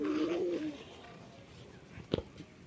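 Pigeons cooing on a rooftop where they are kept, a soft low cooing phrase at the start followed by quieter ambience and a few brief fluttering or tapping sounds near the end.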